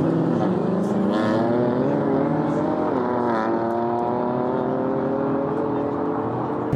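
A roughly 440-horsepower race car engine at a drag and drift event, a loud sustained drone with rising revs, heard at moderate distance over crowd noise and a voice.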